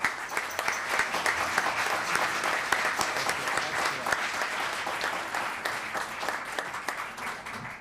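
Town council meeting audience in Los Gatos applauding the Happy Helpers, a dense, lively burst of many hands clapping at close range that carries steadily through the whole stretch with a few sharper claps on top.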